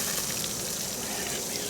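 Water gushes steadily and fairly quietly onto a Mercury 50 hp outboard motor, a continuous broadband rush with no voices.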